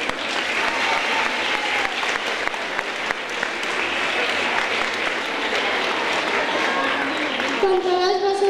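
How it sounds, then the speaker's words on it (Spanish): Audience at a school end-of-year festival claps steadily and fairly close, a dense sustained applause with a few children's voices and a brief vocal tone near the end. "Estamos seguros de que todos os vais a levantar de la silla para darles un fuerte aplauso."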